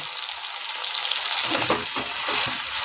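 Poppy seed paste frying and being stirred with tomatoes in a pan, a steady close sizzle with soft scraping strokes of the spatula in the second half.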